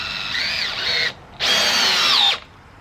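A DeWalt 20V MAX cordless drill whirs loudly and close in two bursts, a short run then a longer one that bogs down as it drives and countersinks a screw.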